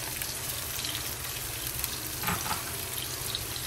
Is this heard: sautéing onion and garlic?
yes